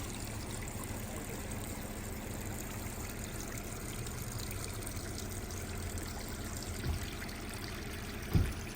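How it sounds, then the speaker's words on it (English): Water trickles steadily through a muddy off-road Jeep trail crossing, a faint low continuous flow with a couple of brief thumps near the end. "I like the water running through."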